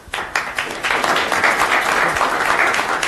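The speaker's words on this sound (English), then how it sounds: "We all applaud you." Audience applause fills a council meeting room, a dense, steady wash of many hands clapping that starts abruptly and holds at full strength throughout.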